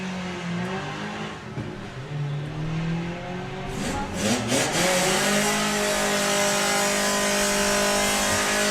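Drag racing cars, an Audi named I Can't Afford an R8 and a Porsche, at Santa Pod during VW drag racing qualifying, engines revving in rising tones before a loud launch roar that stays strong and close.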